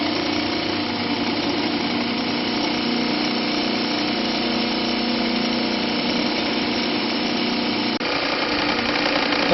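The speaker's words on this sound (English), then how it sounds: "now I'm just going to shut down this motor too" A single-phase AC motor fed from a rotary phase converter drones with a steady, close hum and dense whine, unbroken throughout, with a slight change in tone near the end.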